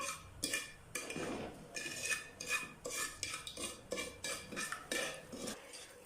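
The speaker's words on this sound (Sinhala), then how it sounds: "අපි සීනි ටික දිය වෙනකම් හැන්දකින් තමයි හැඳි ගන්න ඕනේ." A metal spoon scrapes and stirs sugar as it melts in a pan for caramel pudding, with steady, repeated strokes and soft clinks close by and no talking.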